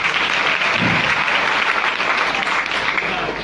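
Loud, dense audience applause at a motivational speech event, a continuous close wash of many people clapping that stays strong from start to finish, with no voice over it.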